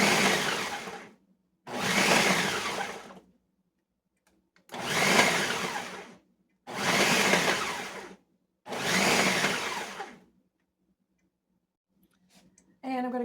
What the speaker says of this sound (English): So I'm doing it in the food processor.